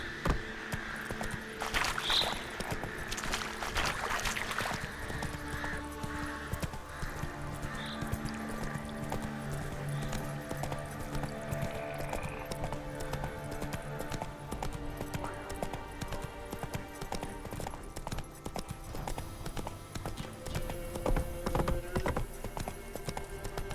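Hooves of a horse in The Witcher 3 clip-clop in a steady galloping rhythm throughout, close and continuous beneath background music, with a brief whinny-like sound near the start.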